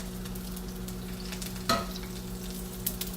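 Mung beans or seasoning sizzling in hot oil in a pan while being stirred for Maharashtrian mung bean usal, a steady close crackle with one sharper scrape of the spoon midway.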